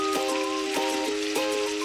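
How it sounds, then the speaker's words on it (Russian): Pork sizzles steadily in a pan over high heat while being browned for kharcho soup, a continuous close hiss with a sustained tonal melody layered over it. "Будем обжаривать мясо на достаточно сильном огне."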